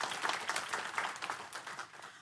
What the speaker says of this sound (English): let's give them a round of applause for bringing you out